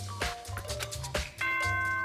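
Musical chime announcement from the video game Danganronpa: Trigger Happy Havoc, a clear series of bright, sustained tonal notes over a low droning background, filling the two seconds at steady loudness.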